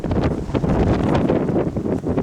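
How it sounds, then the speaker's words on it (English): Strong wind on the shoulder of Mist Mountain in Highwood, loud gusty buffeting and roaring blasts hitting the microphone continuously, close and rough, with no talk. "for the wind to quiet down a bit"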